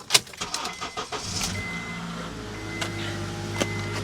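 A Hyundai Kona's engine is started with the key: quick clicks and an uneven cranking stutter, then the motor catches and settles into a steady close idle with a few small knocks.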